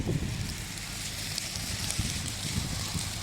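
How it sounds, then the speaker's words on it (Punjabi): A large blaze near a wedding palace in Jarg roars and crackles in strong wind, a steady close rush of broadband noise with gusty buffeting throughout. "ਤੁਸੀਂ ਦੇਖ ਸਕਦੇ ਹੋ ਅੱਗ ਦੀ ਆਵਾਜ਼"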